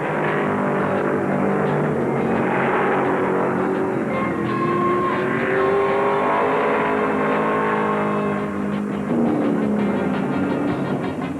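Several USAC stock cars roar continuously in a dense, droning pack, running three and four abreast, engine pitches rising and falling together as they sweep around Wisconsin International Raceway in 1971.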